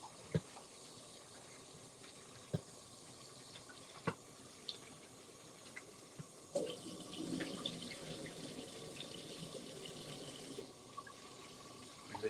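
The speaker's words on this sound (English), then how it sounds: "Give it another rinse." Water runs and splashes as food is rinsed in a sink for stew chicken with rice and peas, with occasional clinks early on and a fuller, louder stream of running water in the second half, heard close without speech.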